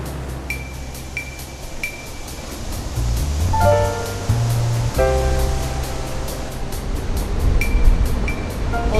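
Water rushes constantly at the Rivière des Galets intake in Mafate, a loud, steady roar that swells slightly toward the end, with a few faint tonal beeps over it.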